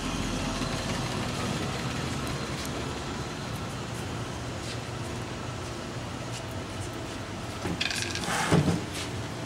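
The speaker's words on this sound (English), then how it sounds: "that was an 8 foot Chicago by 55 ton mechanical press brake, model 68B" Dreis & Krump Chicago 8-foot 55-ton mechanical press brake, model 68B from 1957, running with a steady low mechanical hum, a faint rhythmic clatter and a brief louder clank near the end.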